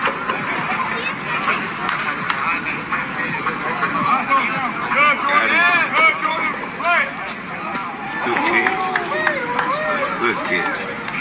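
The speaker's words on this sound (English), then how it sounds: "you should be able to hear the reaction from the crowd" A football crowd reacts to a play with a continuous, fairly loud roar of cheering and babble, and a few sharper shouts rise above it.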